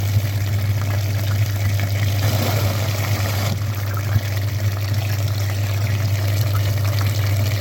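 Dirty water flushes steadily out of a clogged heater radiator in a Toyota Highlander or VW Passat B5, a continuous close gushing and trickling over a strong low pump hum.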